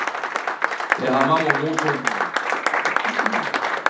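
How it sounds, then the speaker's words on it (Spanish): A church congregation applauds, a broad patter of clapping under someone speaking in a sermon, the clapping mostly masked by his voice. "el pueblo de Dios te da un aplauso"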